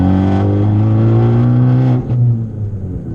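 A tuned Fiat 500 Abarth engine drones loudly and close at half throttle, a deep sustained growl that holds steady, then dips briefly and settles lower.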